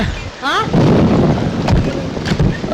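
Steady heavy rain hisses throughout with a low rumble of thunder, heard inside a house with a leaking roof, and a brief whooshing sweep near the start.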